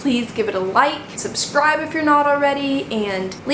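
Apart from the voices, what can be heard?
No everyday noise stands out behind the speech.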